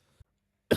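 A single hard cough bursts out near the end, loud and close, after a tiny faint knock and near silence, from someone working at a desk.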